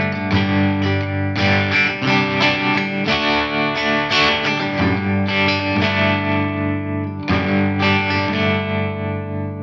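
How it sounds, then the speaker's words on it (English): Chords strummed on a PRS electric guitar through an Axe FX3, with throbbing tremolo and reverb, ringing steadily and loud as sustained chords change every second or so with no one talking. "I'm just playing all my favorite diary rock chords today"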